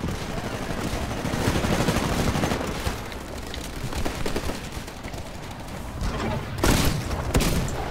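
Shotgun blasts in the Titanfall beta, a multiplayer first-person shooter, crack out amid dense, loud gunfire and thuds, with a sharp burst near the end.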